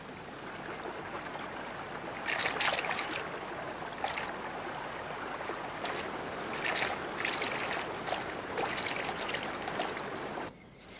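A river flows through the Drakensberg mountains of South Africa with a steady rushing wash, swelling in several louder surges of splashing water.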